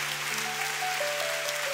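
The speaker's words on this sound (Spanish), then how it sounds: "Si ese aplauso es para el Señor" Congregation applause in a church service: a steady, diffuse wash of clapping from many people, moderately loud and continuous, with faint sustained tones running underneath.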